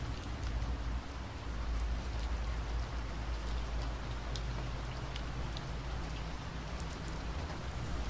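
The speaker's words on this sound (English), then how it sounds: "It is raining." Rain falls steadily during a lightning storm, a constant hiss of drops spattering on a window screen and surfaces, with occasional sharper drip ticks, heard alone without talk.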